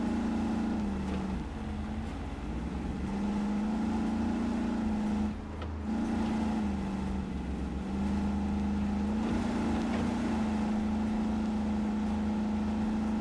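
Scout truck engine revving hard in the RoadCraft video game, a loud, continuous drone that keeps rising and falling in pitch for the whole stretch, with no one talking.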